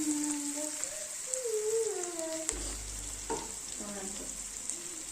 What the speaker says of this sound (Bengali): এখানে আমার পেঁয়াজটা হালকা হালকা ভাজা হয়ে গেছে